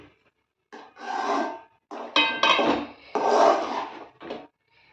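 A spoon scrapes and rubs around a pan of milk kesari mixed with fried cashews and raisins, several separate rasping strokes close up with short pauses between them.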